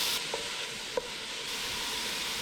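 Andouille sausage and softened vegetables stirred as they fry in a pot for red beans and rice, a steady close sizzle with two brief scraping knocks of the spoon early on.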